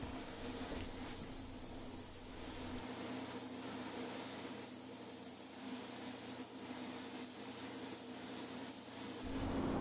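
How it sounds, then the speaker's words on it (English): A paint spray gun applying textured paint to a black metallic car, giving a steady loud hiss of atomized spray that runs throughout with small pulses as the trigger shifts. "So it has to flow out and look like you want it to when it's done, so spray it like you mean it."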